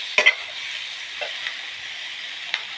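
Onion, tomato, coriander leaves, ginger and green chilli being stirred as they fry in a pan: a faint, soft sizzle broken by a few light scraping clicks from the spoon.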